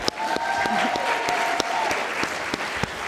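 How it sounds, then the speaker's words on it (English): Sustained audience applause at a teen mental health first aid summit, steady and fairly close throughout, with a few sharper individual claps and a faint voice or whistle-like tone carrying over the clapping. "Can we give her another round of applause?"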